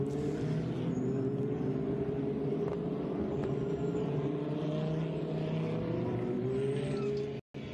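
Lamborghini Super Trofeo race cars lapping Imola during the World Final race, a steady engine roar sustained throughout at moderate distance, with no voices and a brief cut near the end.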